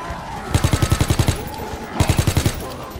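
Two quick bursts of rapid gunshots fired at a soldier in Call of Duty WWII Zombies, each a tight string of about eight punchy shots, loud and close.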